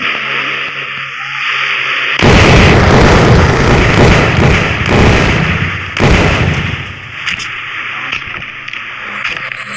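A loud burst of explosive rumble and crackling noise from a video game erupts, sustained for a few seconds with repeated thumps, then cuts off abruptly.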